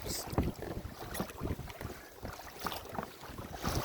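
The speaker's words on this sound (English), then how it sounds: "I like that you can pedal to make it go instead of having to use your hands with the paddles." A Pelican Catch 130 Hydrive pedal kayak moves across open water, with splashing and sloshing against the hull mixed with gusty wind noise buffeting the microphone, close and continuous.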